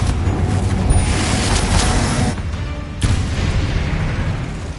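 Confringo blast spell explosion in Hogwarts Legacy, loud booming burst with a dense rumbling roar that cuts off briefly, then a second blast that fades out, close and with no voices.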